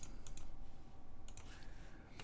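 Computer keyboard keys are pressed while working in the Nuke compositing software, a few quiet clicks and taps in short bursts over a soft background hiss.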